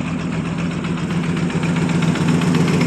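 A 1959 Buick Electra with a 401 Nailhead V8 idles up close in a yard, making a steady, dense rumble with a low throb and no break.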